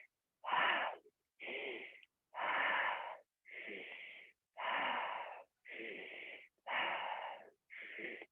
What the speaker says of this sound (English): Just breathe, inhale and exhale.